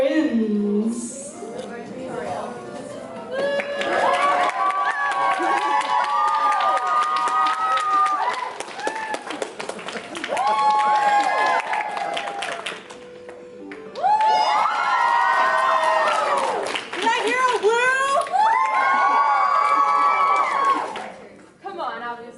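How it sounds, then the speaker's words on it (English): A crowd at an Undertale/Deltarune convention panel erupts in loud, shrill cheering and whooping in repeated bursts, with brief quieter gaps between rounds and shouting voices mixed through the roar. "can I get a cheer for each group and each partner?"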